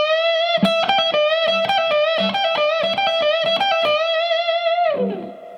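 A second lick on distorted electric guitar, with a steady sustained high note over quick repeated picked notes, loud and alone, ending in a downward slide as it fades.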